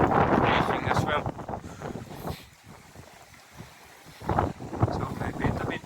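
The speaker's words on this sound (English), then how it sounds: "So maybe the wind is picking up." Blustery wind buffets the microphone aboard a sailboat under way, gusting loudly at the start and again near the end, with a person talking over it.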